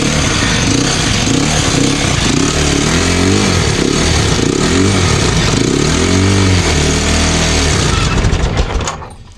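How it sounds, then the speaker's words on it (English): Motorcycle engine started with the ignition button, running loud and close at a rough, chugging idle with slight revving before cutting off abruptly near the end. "So first, make sure you turn on this side, turn on your engine."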